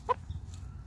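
A single short cluck from a chicken being fed fresh clover, faint and brief against quiet background noise.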